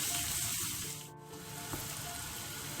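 Onion sizzling and frying in a pan with salt for a meat-filled cannelloni filling, a steady close broadband hiss with a brief stir partway through.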